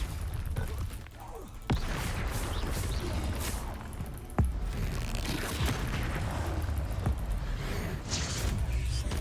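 Confringo explosive spell blasts in the Hogwarts Legacy video game, two sharp booms standing out over dense, continuous battle noise and rumble.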